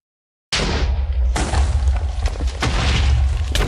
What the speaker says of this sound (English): a rain of fireballs. Explosions everywhere.